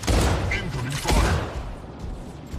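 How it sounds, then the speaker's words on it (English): Weapon fire from an incoming attack in the Mech Arena video game lands as two heavy, booming bursts about a second apart, loud and close, under a game announcer's voice. "Incoming fire."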